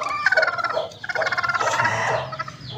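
A hen kept among backyard poultry, including desi and Chinese breeds, cackles loudly and continuously in a run of harsh repeated calls with short pauses, close by and with no talk over it.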